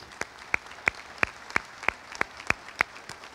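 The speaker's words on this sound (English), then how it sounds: "I'd like to give Coach Bartow a round of applause" Applause for a basketball coach at a press conference, heard as sparse, distinct claps in a slow, steady rhythm, fairly close and alone with no talk.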